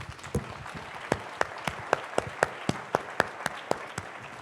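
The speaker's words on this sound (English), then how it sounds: "Please give them a round of applause" An audience applauds at a launch briefing at Wallops Island, a moderate, thin round of clapping with distinct individual claps standing out in an even rhythm, fairly close and without talk over it.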